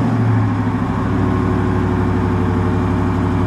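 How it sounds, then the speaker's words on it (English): A Dodge Hellcat Redeye with active exhaust rumbles loudly and steadily up close, a deep throbbing engine note holding level across the whole stretch with no talk. "This active exhaust is just amazing."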